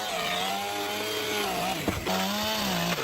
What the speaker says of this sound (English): extra round logs extending from the roof edge are being precisely cut off with a chainsaw